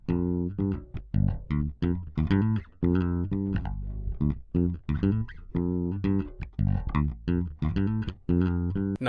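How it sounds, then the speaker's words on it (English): A bass guitar is played near the bridge with both pickups engaged, giving punchy, bright plucked notes in a steady funky rhythm, close and clear with no talking. "if I start with both pickups but playing towards the bridge, you'll have a sound"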